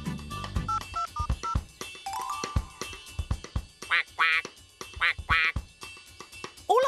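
Cartoon ducks quack in short repeated bursts from a Tractor Tom animated episode, set against busy music and effects with phone-like tones, loud and close.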